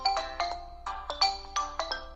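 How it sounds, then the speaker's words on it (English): An Aqara G3H camera plays a ringtone triggered by face recognition: a bright, melodic chime of about seven clear tonal notes in a bouncy rhythm, close and alone with no talking. "it can turn my background light on and play a nice ringtone."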